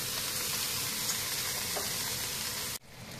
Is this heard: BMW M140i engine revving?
no